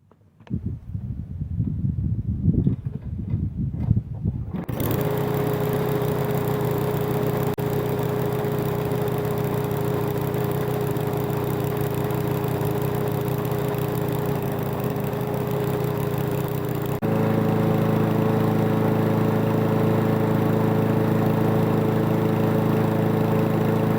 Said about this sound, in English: I'm going to put some fresh gas in it, and we're going to give it a test run.